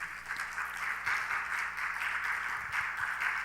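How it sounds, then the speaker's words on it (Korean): Congregation applauding at a Korean church service after a closing prayer, a steady, moderately distant wash of many hands clapping without a break, with a faint hum underneath. "다시 한번 박수 부탁드립니다."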